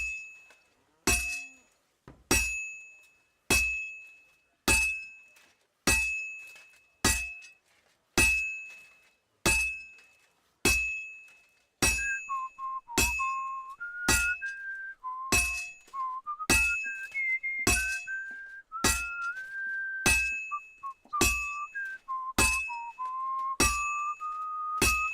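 Steady, evenly spaced hammer blows ring out one after another in a shop, over twenty sharp metallic strikes with short decays, later joined by a wavering tonal whistle between the hits.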